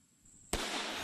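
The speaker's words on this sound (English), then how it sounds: "But on his second shot, Tippy's weapon hits the mark." A single sharp AR-15 rifle shot fired at a distant light bulb target at 400 yards, sounding as a sudden loud crack after near silence, followed by a sustained noisy wash of echo and wind.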